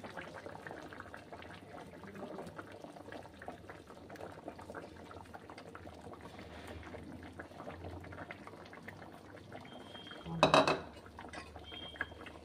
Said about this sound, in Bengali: আমি কিছুক্ষণের জন্য ঢাকা দিয়ে রেখে দিচ্ছি।